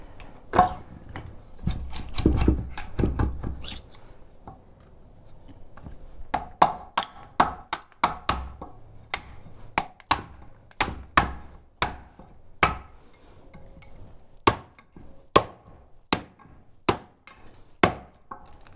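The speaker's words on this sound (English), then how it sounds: "Back to our chisel." Chisel cutting wood for a hand-cut dovetail joint, a long series of sharp, crisp taps and strikes close up, rapid and irregular at first, then settling into a steady rhythm of evenly spaced blows.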